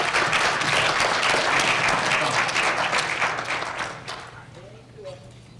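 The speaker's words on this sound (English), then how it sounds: "One more round of applause," A Board of Education meeting audience bursts into loud, sustained applause, with voices mixed in, before the clapping fades out near the end.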